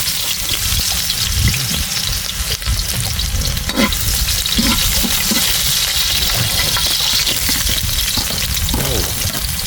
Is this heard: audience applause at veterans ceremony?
no